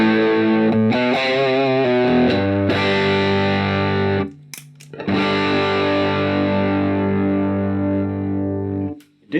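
Electric guitar played through distortion while comparing paint finishes: sustained heavy chords with a brief trilled passage, a short break midway, then long ringing chords, loud and close with no talk.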